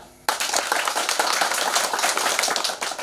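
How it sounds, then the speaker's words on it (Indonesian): A crowd at a political campaign rally in Manggarai, Indonesia bursts into dense, sustained applause that starts abruptly and continues steadily for a few seconds. "Tepuk tangan."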